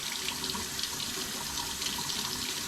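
Steady running tap water splashes continuously as eggs are rinsed under the stream, with no voices.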